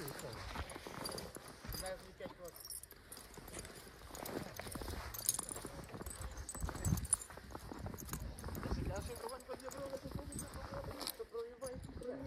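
A Ukrainian draft horse walks nearby, its hooves giving a steady, muffled clip-clop over a noisy outdoor background while someone talks through most of it.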